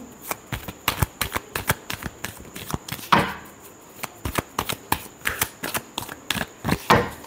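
Tarot cards shuffled by hand in a steady run of crisp riffling snaps, close and alone, with a brief pause before a last louder burst of shuffling.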